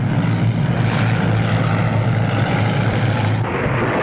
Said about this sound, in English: Let me know when you hear my motor.